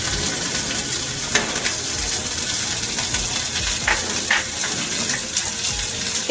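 Chopped garlic frying in hot oil for a mourala fish dopiaza, giving a continuous close crackling sizzle with scattered sharper pops and spatters and no talking.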